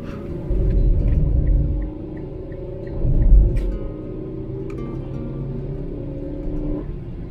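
A car engine drives along a mountain road in the Troodos Mountains of Southern Cyprus. Its deep rumble swells twice, then settles to a steady hum heard from inside the car.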